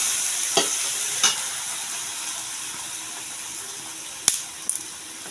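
Cut tomatoes cooking in hot oil for a Rajasthani radish dish on a traditional chulha, giving a loud, steady sizzle broken by a few sharp scraping stirs.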